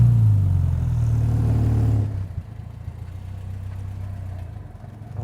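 A 1968 Morgan 4/4 engine hums under load while driving, a loud steady drone that drops abruptly to a quieter, lower running note partway through, with no talking.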